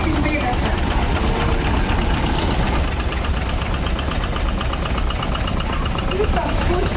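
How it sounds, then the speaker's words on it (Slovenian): A 1959 Štajer vintage tractor runs at a farm festival, its engine a steady, dense chugging rumble throughout, with a voice talking over it. "Gospod Bratuša, traktor Štajer, letnik 59."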